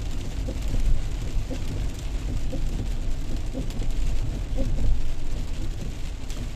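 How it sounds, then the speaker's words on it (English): Steady rain drums on a car moving through wet streets in Paphos, Cyprus, with a dense broadband hiss, faint scattered drop ticks and low road rumble, constant and close throughout. "As you can see, the rain is picking up because the automatic wipers are speeding up."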